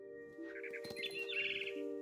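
Soft bird chirps from What Remains of Edith Finch sound as a few short, high tweets over a quiet, steady tonal hum, faint and close.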